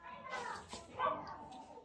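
Several small kittens, a litter of four, meow in thin, high cries, a few short calls close by with a person talking quietly underneath.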